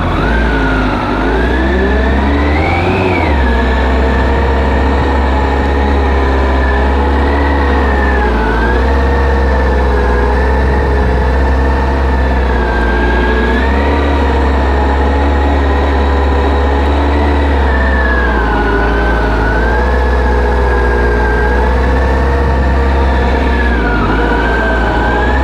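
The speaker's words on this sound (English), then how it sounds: "Now we're going to go with the steady RPMs, the way it should be done, steady RPMs." A motorcycle engine holds a loud, steady drone at constant revs during slow-speed turns, with small wavering pitch shifts and a deep low rumble throughout, with no talking.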